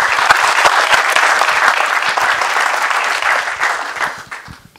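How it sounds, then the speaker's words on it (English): A live audience applauds strongly at a stage event, a full, continuous roar of clapping that holds steady and then fades out over the last second. "So let's give them another round of applause."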